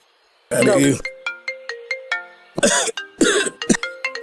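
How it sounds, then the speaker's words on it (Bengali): A mobile phone ringtone plays a repeating pattern of short melodic electronic beeps between bursts of people talking and clearing their throats nearby. "ফোনটা ধরো"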